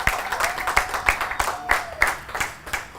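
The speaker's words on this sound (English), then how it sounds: "The audience, can you clap for yourselves" A small audience at a Cameroon blogging event claps for itself, a sparse scattering of distinct, separate hand claps with uneven spacing, fairly close and moderately loud, with no steady wash of crowd noise.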